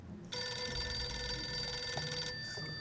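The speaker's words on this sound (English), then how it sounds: "We're going to send him to answer the phone because we have nobody else to pick." A telephone rings in the video game 60 Seconds! Reatomized, a steady electronic bell tone that starts abruptly and rings on continuously, clear and fairly loud, over a low background hum, with no talking.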